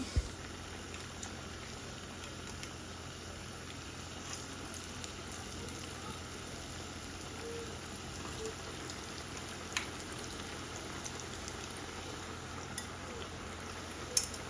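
Steady soft sizzling crackle of dumplings deep frying in hot oil, continuous and even throughout with a faint high whine, no talking.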